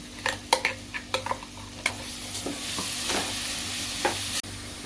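Green masala paste going into hot oil for a sprouted moong curry sizzles steadily and close, with a few sharp spatters and stirring scrapes over the hiss and no talking.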